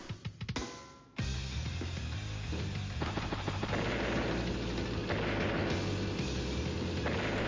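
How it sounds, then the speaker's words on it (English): Anti-air unit firing on a tank in Advance Wars: Days of Ruin, a few sharp game shots and then a dense, continuous barrage of booming, rattling fire that stays loud to the end. "Anti-air hits the tank."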